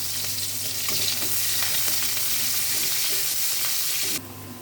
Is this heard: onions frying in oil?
yes